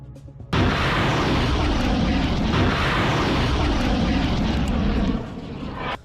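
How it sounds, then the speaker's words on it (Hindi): A drone launched toward Eilat gives a loud, steady engine roar that starts abruptly and holds constant for several seconds, then eases slightly near the end, alone without talk. "इस ड्रोन को ईलत की तरफ लॉन्च कर दिया जाता है"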